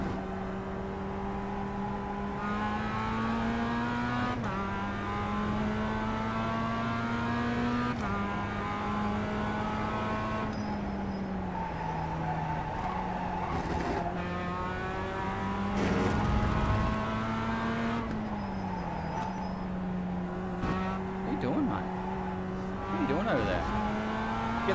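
Race cars tearing around a track in a video game, with a continuous high, revving engine whine that steps through gear shifts and briefly squeals near the middle.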